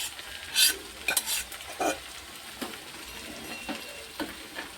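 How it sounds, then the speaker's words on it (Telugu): A spoon stirs and scrapes in a pot as cooked vegetables go into boiling tamarind broth (pulusu) for pappu charu, giving several short scraping clinks over a faint simmering bubble, close and with no talk. "ఇప్పుడు దీంట్లోకి మనము పులుసులోకి షిఫ్ట్ చేసేసుకోవాలి. పులుసు కూడా మరుగుతుంది."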